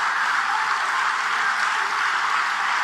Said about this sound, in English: Listen to all the clapping out there.